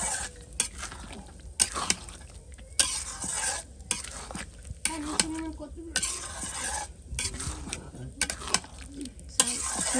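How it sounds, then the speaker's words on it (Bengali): Food being stir-fried in a pan, with a utensil scraping and clattering in rhythmic strokes over a steady close sizzle, loud and continuous. "ভালো করে একটু সময় নিয়ে কষে নেবো"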